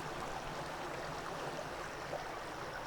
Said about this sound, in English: all these brooks, streams are cool.